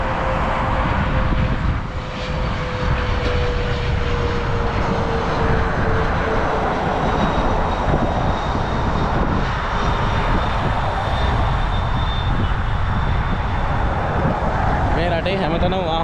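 An airplane passes overhead in Doha, Qatar, a steady broad engine roar holding for the whole stretch with a slowly gliding tone, while a voice talks underneath.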